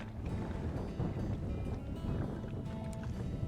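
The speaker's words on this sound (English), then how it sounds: "Wind's kicking up too." Wind blowing across Table Rock Lake on a winter day, a steady low rumbling buffet with faint water lapping, close and continuous, with no talking.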